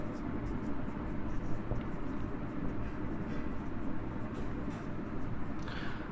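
Pen or chalk writing out a maths expression, a faint scratchy scraping under a constant background rumble and room noise.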